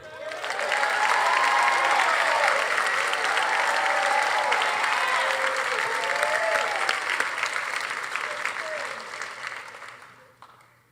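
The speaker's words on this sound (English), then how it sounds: "Round of applause for Cade." Steady audience applause for a graduating student at a high school class night ceremony, sustained and full for about ten seconds with some cheering, then tapering off at the end.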